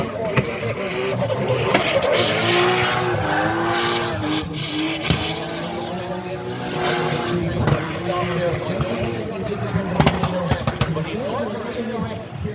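Several drift cars roar continuously around the Mondello Park circuit in Ireland, engines revving and tires squealing, with a commentator talking loudly over the din.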